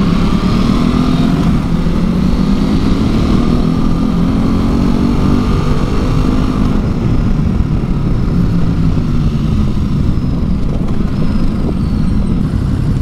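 A Ducati Multistrada V2S twin-cylinder engine drones steadily while riding, a loud low throb with rising and falling pitch mixed with rushing wind.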